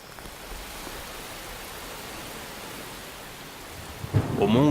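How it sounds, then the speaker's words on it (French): Steady rain pouring at Mount Unzen in Japan makes a dense, even hiss, and a deep rumble of thunder swells up near the end. "Au mont Unzen, à 100 km au nord, il pleut maintenant depuis des heures"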